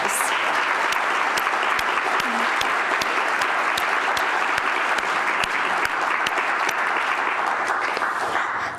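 Sustained applause from an audience at an evening speakers' series event in Nashville, dense and even clapping with a few sharp individual claps standing out, fairly loud throughout.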